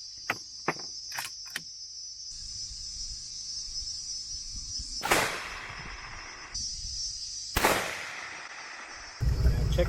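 Two loud gunshots at an outdoor shooting range, about three seconds apart, each a sharp broadband crack with a short decay, set against a steady high insect-like hiss and a few faint clicks.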